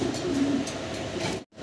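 A pair of white Arabian koka pigeons coo in low, steady murmurs, close and continuous for over a second before a brief drop to silence.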